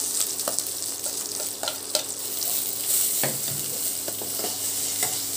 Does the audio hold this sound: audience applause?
no